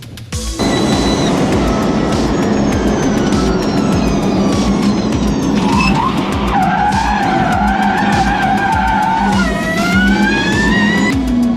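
A Ford car does donuts on the Faroe Islands with continuous loud tire screeching and a roaring, revving engine, the squeal rising and falling in pitch through the whole sustained run.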